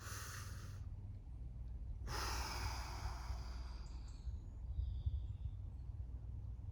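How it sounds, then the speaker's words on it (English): A person stretching the hips and hamstrings takes two long, deep breaths, each a breathy rush of air in and out, heard close over a steady low background hum. "Deep breath in, deep breath out."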